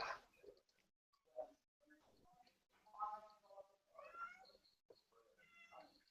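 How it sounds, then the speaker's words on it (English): A cat meows repeatedly in an agitated way, a string of drawn-out, wavering cries at close range, quiet overall with faint background noise. "My cat is freaking out."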